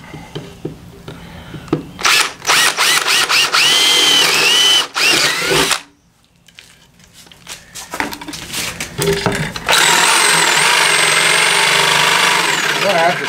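A handheld power drill whines in bursts while drilling parts for a homemade composting toilet aboard a sailboat, loud and close, with pauses between runs and a longer high-pitched spin near the end.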